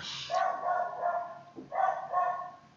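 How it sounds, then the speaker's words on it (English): A dog barks in a few muffled, drawn-out bursts, somewhat distant, with short pauses between them. "barking dog."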